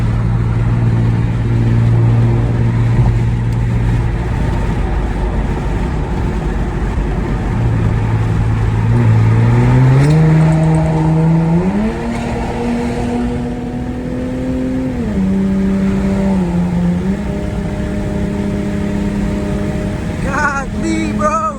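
An Infiniti G37 fitted with an ISR exhaust and Y-pipe accelerates hard with the window down while passing other cars. The engine is loud and close, with a deep drone that rises in repeated climbing revs through the gears.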